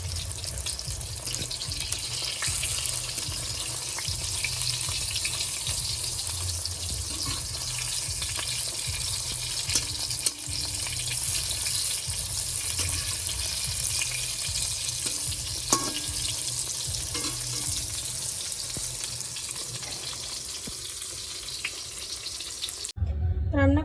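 Eggplant slices fry in hot oil with a steady, close hiss and soft crackle that runs evenly throughout, with occasional faint clinks and no talking.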